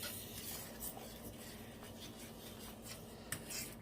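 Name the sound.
stirring garlic shrimp alfredo sauce with a fork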